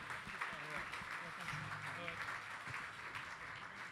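Audience applause at a supply chain directors' gala awards ceremony, a dense, steady wash of clapping from a large crowd with a voice faintly underneath.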